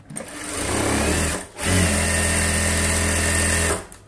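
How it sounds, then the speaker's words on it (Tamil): An electric sewing machine edge stitches a blouse lining, whirring steadily up close in two runs separated by a brief pause, then winding down at the end. "எஜ் தையல், அதாவது ஓர தையல் போட்டுக்கோங்க ரெண்டு பக்கமும்."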